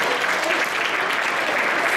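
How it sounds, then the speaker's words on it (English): Steady, dense applause fills a graduation ceremony hall, a continuous round of clapping from the audience with no voices over it. "Just a round of applause for Maria Hill."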